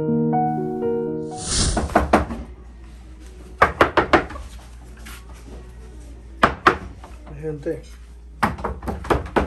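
Someone banging on a door, sharp wooden knocks in quick clusters of three or four, loud and close, with people talking in Spanish between the bursts.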